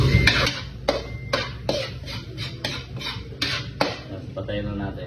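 Tuna sisig with egg stirred in a pan, a spoon scraping and clanking against the metal in a steady series of sharp strokes with a soft sizzle underneath.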